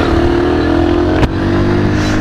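A 2000 Honda C50 four-speed electric-start motorcycle engine runs loud and close as the bike rides away, with a steady buzzing drone and a brief dip mid-way like a gear change.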